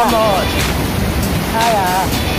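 A river current flows near Tinago Falls, a steady, close, loud broadband rush that fills the whole clip, with faint voices briefly audible beneath it.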